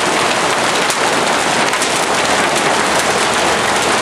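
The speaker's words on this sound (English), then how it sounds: "Now, if you've never seen hail, this is what it looks like." Hail pelting down during an April storm, stones bouncing around a yard; a loud, dense, steady clatter of countless impacts fills the whole stretch with no pauses.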